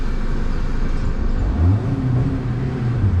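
A Honda Civic engine idles at about 750 RPM with a fault where the revs suddenly drop, a loud close low rumble with slight wavering rises in its hum and no voices.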